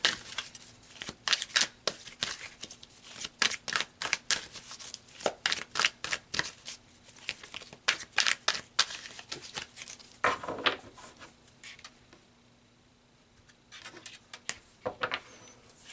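Tarot cards are shuffled close up in quick flurries of crisp riffling and slapping, with a few sharp snaps as cards are pulled, then quieter handling toward the end.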